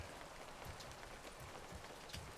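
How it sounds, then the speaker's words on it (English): Rain sound effect from a Unity 2D game, a faint, even patter of drops with soft scattered taps, alone without talk. "I added some rain sound and some wind sound."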